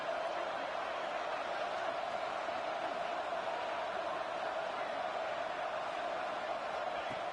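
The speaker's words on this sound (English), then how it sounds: "Listen to the crowd energy here in the early going." A stadium crowd in a college football video game keeps up a steady, dense roar through the whole stretch, even and unbroken with no clear peaks.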